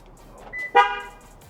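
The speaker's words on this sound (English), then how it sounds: "it's already like honking when you lock it" A 2020 Toyota Tacoma TRD Off Road gives a single short horn chirp as it locks, loud and close, preceded by a faint electronic beep and followed by quiet outdoor ambience.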